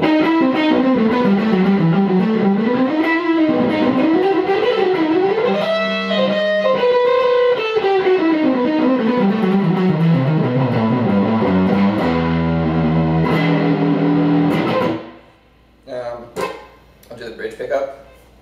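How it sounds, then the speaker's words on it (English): Distorted electric guitar on an Ibanez Prestige RG2120X neck pickup, with a warm, rounded tone, plays a winding melodic line, then sustained chords, ending in a few scattered notes and string noise. "back on the neck pickup, let's do some distorted sounds."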